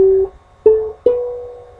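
A riff on a ukulele in an easy version, three plucked notes with the last one ringing out, close and clear, with no voice.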